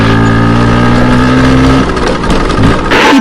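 A new scooter engine revs loudly and close, with a steady droning pitch that rises and falls before a brief burst of throttle at the end.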